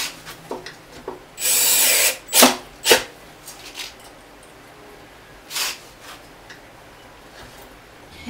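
A power drill drives pocket hole screws into wood for a Christmas tree stand box, with a loud whirring burst, several short sharp bursts after it and a later brief whir, close up and without talk.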